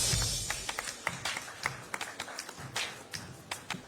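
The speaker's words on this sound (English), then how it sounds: "A huge round of applause" Audience applause closing an awards-ceremony panel discussion on AI in home appliances, heard as scattered, fairly faint clapping with individual claps standing out rather than a dense roar.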